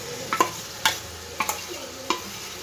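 A sour yogurt and ground spice mixture going into a pan on a low gas flame, with a soft steady sizzle and a few sharp spoon taps against the pan while it is stirred.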